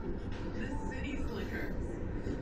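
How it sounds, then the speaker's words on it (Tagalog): A Bangkok airport rail link train rolls past as a broad, steady rumble and hiss. It is fairly quiet and distant, with voices talking nearby. "yan yung airport train"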